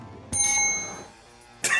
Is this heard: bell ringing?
yes